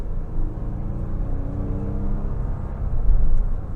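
A 2011 Toyota Sienna XLE minivan with a 3.5 liter V6 accelerates under throttle, a steady low engine rumble and whir from inside the cabin that swells slightly near the end.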